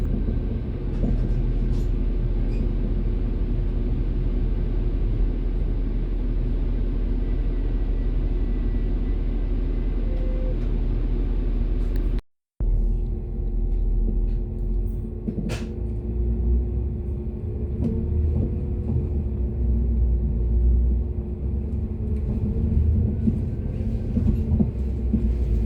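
A Northern Class 195 train pulls into Fairfield station, heard from on board as a loud, steady low rumble of wheels and running gear with a brief break in the middle and squeaks as it slows.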